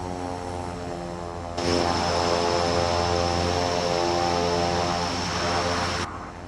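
Twin turboprop engines of a Cessna 408 SkyCourier in Microsoft Flight Simulator 2024 drone loudly and steadily, with layered propeller tones that step up in power partway through and settle back near the end.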